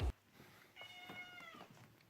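A cat meows a few times at moderate distance, drawn-out tonal calls against a quiet room hum, with a brief thump at the very start.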